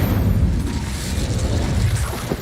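An Incendio fire spell cast in Hogwarts Legacy, a dense rumbling whoosh of flames that holds steady and loud for a couple of seconds, with no pause and no voice.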